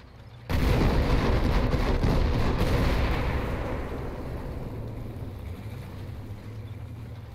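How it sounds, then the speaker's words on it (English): An M46 tank is shot and destroyed in the War Thunder tank game. A sudden heavy cannon blast erupts into a loud, dense roar that slowly fades into a long rumbling tail. "Here you can see that M46 getting shot down."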